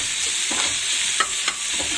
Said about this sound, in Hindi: मसाले ऐड करने के बाद मैं इसको मैं अच्छी तरह से हिला लूंगी